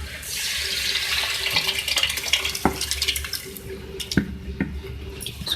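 Water pours and splashes into a cooking pot of dal, with a continuous rushing sound broken by a few scrapes and taps of utensils nearby.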